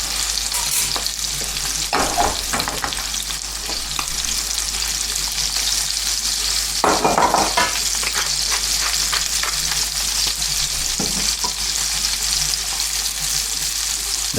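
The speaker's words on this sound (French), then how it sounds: "La saucisse ne cuira pas à la poêle, il faut bien la marquer" Sausages sear in a hot frying pan with a steady, loud sizzle, interrupted now and then by the scrape and stir of a utensil; no voices.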